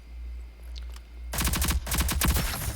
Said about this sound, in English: We'll go through the SMG now.